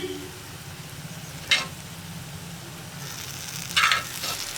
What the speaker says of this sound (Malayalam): ചക്കക്കുരു ചേർത്ത് മിക്സ് ചെയ്തിട്ട് നമുക്ക് ഫ്ലെയിം കൂട്ടി വയ്ക്കാം